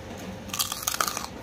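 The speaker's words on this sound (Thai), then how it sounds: "มากินตำทั่วหมูกรอบ" Crispy pork being bitten and chewed alongside a spicy Thai bean salad, a short burst of close, crackly crunches with no talk.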